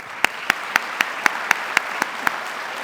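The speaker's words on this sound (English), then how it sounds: "That's worth some applause." Audience applause for high school students at a CTAE Student of the Year ceremony: sharp, evenly spaced claps cut through a steady wash of clapping for about three seconds.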